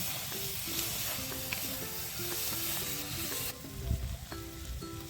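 Chopped onions and potatoes fry together in a pan over a wood-fired stove, giving a steady close sizzle and hiss with occasional stirring scrapes and clatter.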